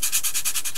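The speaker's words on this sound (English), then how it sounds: "actually just sanding the entire model" Sandpaper is rubbed briskly over a hobby model vehicle to give its steel plating a subtle texture, making a close, steady scratchy hiss in quick, even back-and-forth strokes.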